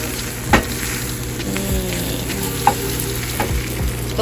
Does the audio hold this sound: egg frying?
yes